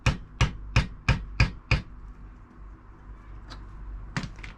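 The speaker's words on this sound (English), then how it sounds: "hit with hammer." Six sharp metallic hammer blows strike a tool wedged against a Toyota Prius door actuator, evenly spaced and close, followed by a quiet pause and a few lighter taps and knocks.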